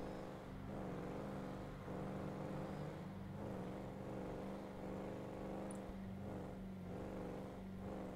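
Car engine in a driving video game repeatedly easing off and then revving back up, a steady droning roar whose pitch sinks and climbs in waves, with no talking.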